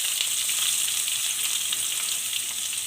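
Drumstick stalks frying with fennel seeds and a bay leaf in hot oil in a home kitchen, giving a steady, dense, close sizzle with a faint stirring texture and no voices.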